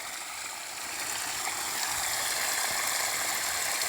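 A sewage pump with cutting blades works hard pumping out a cesspit, producing a steady, dense whirring and gushing rush that grows slightly louder and stays constant.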